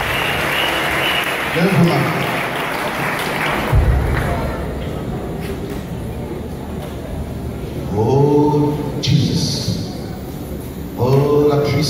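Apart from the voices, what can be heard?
church congregation applauding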